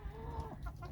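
A dominant backyard hen clucks close by in a garden, several short throaty clucks in quick succession over steady outdoor background noise.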